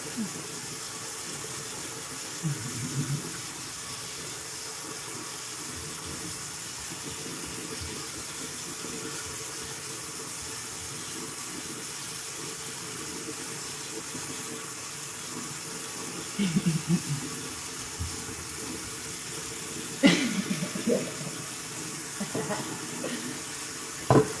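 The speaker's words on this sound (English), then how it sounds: "Run, water, run." Water runs from a tap into a sink, a steady low wash that carries through the whole stretch, with a few louder splashes and clatters near the end.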